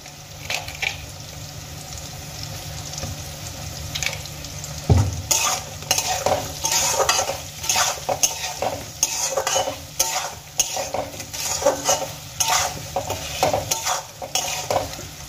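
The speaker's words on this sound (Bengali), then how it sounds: "নুন আর হলুদ খুব ভালো করে আমি সয়াবিন আর আলুর সাথে মিশিয়ে নিয়েছি" Soybeans and potatoes being stirred with turmeric and salt in a pan, a steady run of scraping strokes over a soft frying sizzle, close and fairly loud with no voices.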